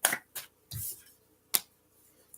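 A Tarot of Dreams deck being shuffled, giving a few short, crisp bursts of riffling cards in quick succession at close range, with quiet gaps between them.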